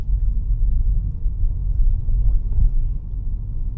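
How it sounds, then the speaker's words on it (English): A 2026 BYD Atto 2 DM-i plug-in hybrid with a 1.5-litre petrol engine pulling away, a soft steady low rumble of the car moving off with very little engine noise and no voices. "See how quiet it picks up."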